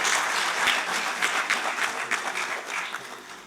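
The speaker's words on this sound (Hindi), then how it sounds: "ताली बजाइए।" Audience applause at a Hindi conference award ceremony during an international Hindi convention, a steady dense wash of many hands clapping throughout, fairly loud and even with no talk over it.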